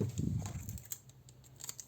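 Adhesive tape torn from a roll while building a gift-wrapped cube, a rough crackling rip in the first second that fades to faint rustling, close and fairly quiet with no speech.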